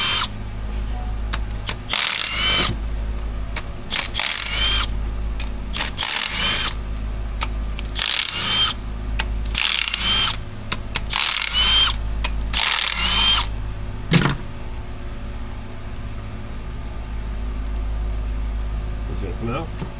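Ratchet removing 13 mm fuel rail bolts on a GM 5.3 V8 during a fuel injector repair, loud repeated bursts of rapid clicking ratcheting separated by short pauses, close up over a steady background hum, with someone talking between bursts.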